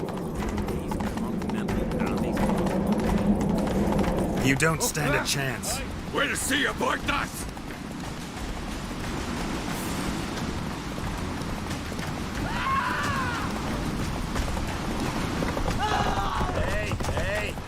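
Roach the horse galloping in a video game, rapid rhythmic hoofbeats running beneath loud voiced dialogue and shouting, with bursts of other game noise in between.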